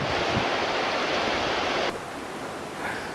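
High creek water rushes steadily after heavy flooding, a dense broadband roar that stays loud throughout, dropping slightly in level partway through as if the listening position shifts.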